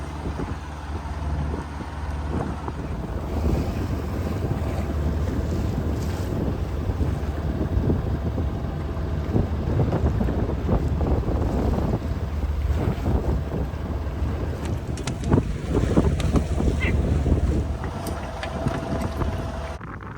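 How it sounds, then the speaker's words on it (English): Strong wind roars over a sailboat at sea, a constant, heavy buffeting rush mixed with wave and hull noise, loud and unbroken throughout with no voices. "Pretty windy out here."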